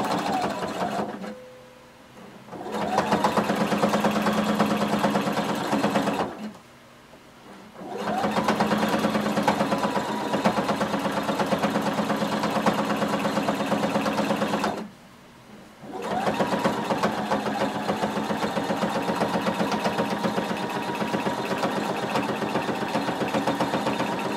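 A sewing machine stitches through all layers of fabric about 3/8 inch from a seam line to form a boning casing, running in three long steady bursts separated by short pauses, loud and close.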